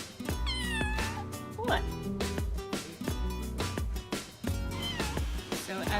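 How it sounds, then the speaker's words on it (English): A dive shop cat at a freediving academy in the Philippines meows several times in rising, drawn-out calls, close and clear over steady background noise, with a brief spoken word in between. "an introduction to one of the 3 dive shop cats"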